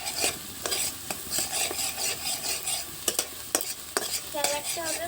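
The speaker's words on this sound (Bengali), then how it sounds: "এখন আমরা মশলাটাকে সুন্দর করে কষিয়ে নেব" Tomato and spice paste is sautéed and stirred in a pan, giving a busy, close sizzle broken by frequent spoon scrapes and clinks against the pan, with no talking.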